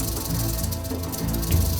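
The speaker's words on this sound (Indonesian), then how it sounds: "Waduh, ini sih ular derik, teman, alias rattlesnake." An albino diamondback rattlesnake shakes its tail rattle in a steady, dense buzzing hiss that carries loud and close throughout, with no voices over it.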